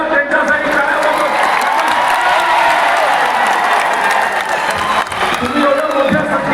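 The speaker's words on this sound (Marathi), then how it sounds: "एकदा जोरदार त्यांच्यासाठी टाळ्या वाजवा." A large crowd at a public event applauds loudly and steadily, dense clapping mixed with scattered cheers and whoops throughout.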